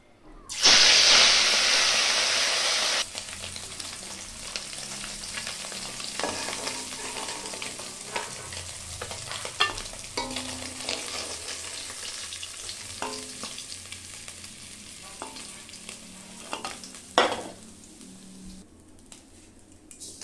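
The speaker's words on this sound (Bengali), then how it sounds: "তাই কটা মাছ ভাজা করব" Fish fries in a pan, opening with a loud burst of sizzle as it hits the oil, then settling into a softer, steady crackling hiss with occasional scrapes and stirs.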